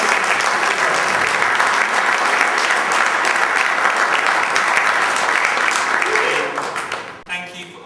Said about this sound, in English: So could you just give a round of applause to our wonderful panelists?